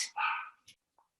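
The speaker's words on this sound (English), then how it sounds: "My dogs were barking." Dogs bark indoors: two quick, close barks come first, then a short yelp, followed by one faint, soft yip after a pause.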